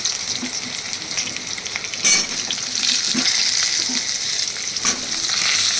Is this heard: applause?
no